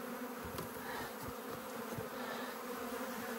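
Dense, continuous buzzing of many bees from an opened hive colony, a low steady drone with occasional soft knocks, no voices.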